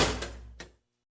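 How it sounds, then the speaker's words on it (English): A metal jail cell door lock clanks open as it is worked with an improvised toothbrush key, two sharp metallic clacks about a third of a second apart, close and fairly loud, then silence. "Cook is fumbling with the lock with the toothbrush key. Oh man, he got the cell door open."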